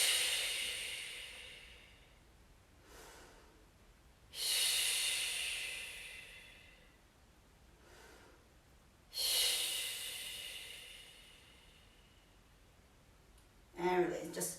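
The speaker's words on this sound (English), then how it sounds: "Let's take 3 breaths." Three slow, deep breaths, each a loud, airy rush of air close by separated by quieter pauses, with a brief burst of voice at the end.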